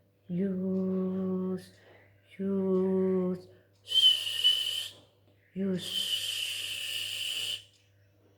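A voice imitates wind with drawn-out whistling, breathy hisses, a few sustained hums followed by two long airy whooshes, close and fairly loud.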